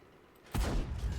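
A single artillery shot fires in the tank battle game World of Tanks, one sudden booming blast that rings out and tails off briefly, with no talk.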